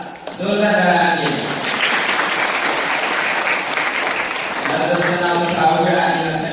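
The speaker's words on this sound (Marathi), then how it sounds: "जोरदार जोरदार टाळ्या" Loud, steady applause fills the room at a quiz gathering on the Buddha and his Dhamma, rising quickly after a brief opening voice and continuing as speech returns over it toward the end.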